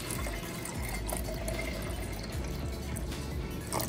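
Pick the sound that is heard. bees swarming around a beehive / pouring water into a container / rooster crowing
pouring water into a container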